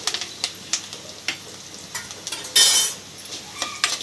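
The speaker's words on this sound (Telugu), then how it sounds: "ఇవన్నీ కూడా బాగా వేగాలి." Spices for miriyalu charu, a Telugu pepper dish, fry in a pan. A spoon stirs and knocks against the metal in quick repeated clinks, with a brief louder sizzle burst partway through and a soft frying hiss underneath.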